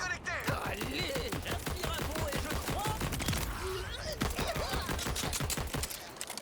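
Rapid, dense gunfire from a weapon in the video game Borderlands 4 rattles on almost without pause, with voices and game effects mixed through the shooting.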